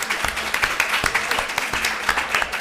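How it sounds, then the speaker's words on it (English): An audience at a drug-use and harm-reduction conference session applauds a speaker with a steady, dense wash of clapping from many hands, fairly loud and continuous throughout. "and another round of applause for Philip,"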